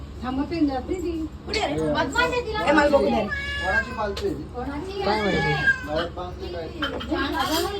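Repeated cat meows and yowls mixed in with children chattering and talking nearby.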